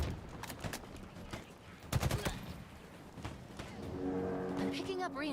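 Gunfire from the Halo Infinite video game, with several sharp bursts and scattered shots over a steady battle din; a voice talks over the shooting near the end.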